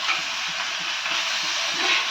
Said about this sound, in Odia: ମାଛ ଛଣାଛଣି ଚାଲିଛି